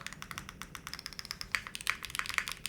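Rapid keystrokes on a spring-mounted Zoom65 V3 mechanical keyboard, crisp clacky taps in quick irregular succession, close and clear with no talking.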